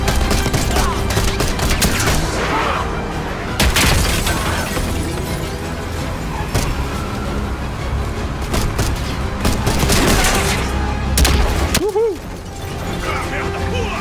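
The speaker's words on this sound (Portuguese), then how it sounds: "Eu tava dando tiro nela." Rapid gunfire bursts and explosions from the Call of Duty Black Ops 6 campaign, with a CIA infiltration mission, fill the scene loudly and continuously alongside game music and effects, with voices talking over the action.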